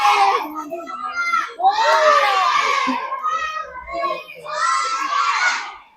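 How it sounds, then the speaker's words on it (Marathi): Crowd of tourists gathered at the entrance of Lohgad fort, a dense babble of many voices with children shouting and calling out, loud and close in bursts throughout. "इकडे खूप सारे लोक आले सहलीसाठी, सो म्हणून एवढी गर्दी आहे."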